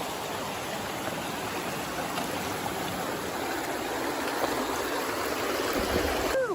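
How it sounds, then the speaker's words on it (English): A river crossed on foot along the Appalachian Trail at the Connecticut–Massachusetts line, rushing water making a steady, loud broadband wash that fills the whole stretch with no talk over it. "We get to cross the river now."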